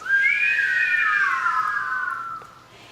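A single sustained whistled tone from a group of people at a gallery talk, bright and fairly loud, gliding slightly up then down over about three seconds before fading.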